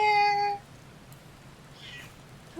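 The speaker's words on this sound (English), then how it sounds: "I wonder, can you all hear his meows?" A cat gives a sharp, tonal meow right at the start, then a quieter, thinner meow follows a second later against low room hiss.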